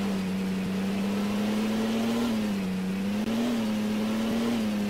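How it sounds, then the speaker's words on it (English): A car engine in a taxi driving video game holds a steady droning hum that rises slightly in pitch as it accelerates, loud and continuous with no talk. "this makes the car go way faster"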